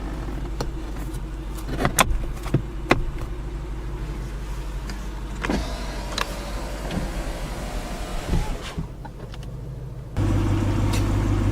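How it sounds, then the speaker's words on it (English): The convertible roof of a 2014 Ford Mustang GT Premium is pulled down by hand: scattered clicks, creaks and mechanical clunks close by, then a steady low hum sets in near the end. "pull this handle, pull the roof down a bit."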